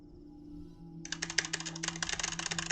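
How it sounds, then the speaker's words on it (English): A clacky computer keyboard is typed on close to the microphone, a quick irregular run of sharp key clicks starting after a second of quiet and continuing to the end over a low electrical hum. "That's my clacking keyboard."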